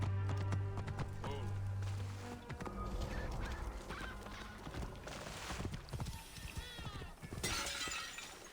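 A horse in the video game Assassin's Creed Origins whinnies and clops about amid a shattering crash and other game effects, fairly faint and mixed with scattered sounds.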